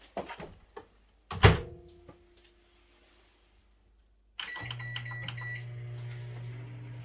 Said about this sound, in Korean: 전자레인지에 2분만 돌리겠습니다